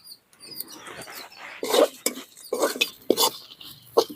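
Coriander seeds are dry roasted in a pan and stirred, giving rattling, scraping bursts of a spoon moving through the seeds, several uneven strokes that grow louder toward the end.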